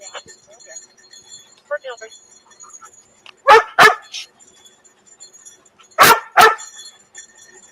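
A dog barks outdoors in a few loud pairs of sharp woofs, close by, with faint background noise and scattered quieter sounds between the bursts.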